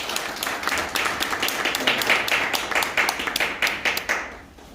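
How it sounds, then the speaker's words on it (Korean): Audience applause at a Korean blockchain and cryptocurrency-regulation seminar as a speaker is welcomed to the stage: a steady wash of many hands clapping that swells briefly, then fades away near the end. "여러분 큰 박수 부탁드립니다."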